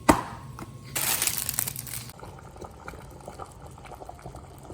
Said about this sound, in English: Now we take our pasta and put it into the boiling water.